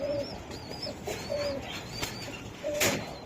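Black Budapest racing pigeons coo in soft, repeated warbling calls near and moderately loud, with light background rustle and a brief louder burst near the end.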